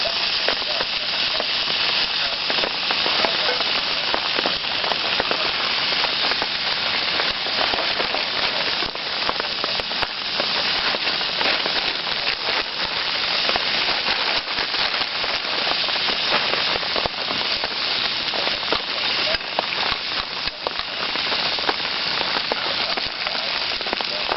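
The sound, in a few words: breakfast cooking in a pan on a small stove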